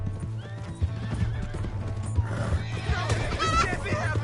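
Horse hooves clip-clop steadily while a horse whinnies, with a busy game soundtrack and occasional voices in the background, in the video game Red Dead Redemption 2.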